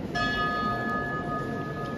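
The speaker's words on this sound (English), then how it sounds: "5 o'clock, and there go the bells." Church bells ring at five o'clock near St. Peter's Basilica in the Vatican, a bright sustained bell tone sounding above a noisy crowd and outdoor bustle.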